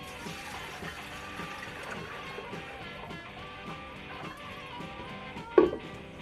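Water is poured into a pot to make a brine for a turkey, giving a continuous splashing gush, with a brief clunk near the end.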